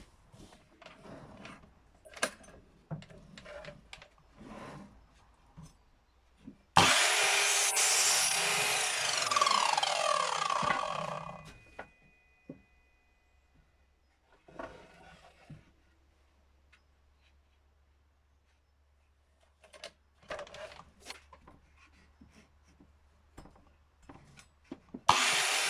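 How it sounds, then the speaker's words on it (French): A power saw cuts through pallet wood for table legs, a loud, steady whine lasting several seconds, with quieter workshop knocks and handling before and after. "j'ai préparé la scie et je vais couper mes pieds à 40"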